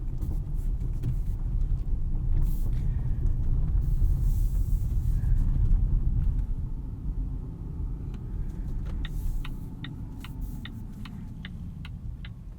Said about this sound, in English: let's go for a drive and see what this thing is like on the road.